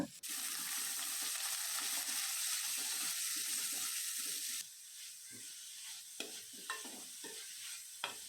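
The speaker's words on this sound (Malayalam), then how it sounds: "അതിലേക്ക് രണ്ട് മീഡിയം സൈസ് സവാള ചെറുതായിട്ട് സ്ലൈസ് ചെയ്ത് ഇട്ട് കൊടുക്കുക ഒപ്പം ഇഞ്ചി ചെറുതായിട്ട് അരിഞ്ഞത്" Thinly sliced onions and chopped ginger sautéing with salt in a pan, a steady close sizzle that softens midway into lighter crackling and scattered stirring clicks.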